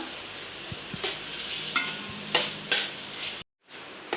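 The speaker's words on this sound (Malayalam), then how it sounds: "ഇതെല്ലാം നല്ലതുപോലെ വഴറ്റിയെടുക്കണം സവാള നല്ലതുപോലെ വഴറ്റിയെടുക്കണം" Onions and green chillies sautéing in a pan for chicken curry, a soft steady sizzle punctuated by several scraping strokes of a stirring spoon, with a brief drop-out near the end.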